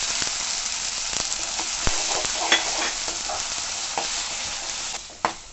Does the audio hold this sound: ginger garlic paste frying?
yes